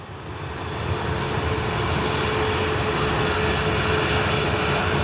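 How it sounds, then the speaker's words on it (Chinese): A Hainan Airlines Boeing 737 jet engine swells into a steady, loud roar with a broad rushing noise and a faint high whine, holding constant with no voices. "海南航空是一架波音的737啊"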